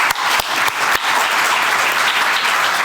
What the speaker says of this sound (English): We can maybe do a round of applause for them.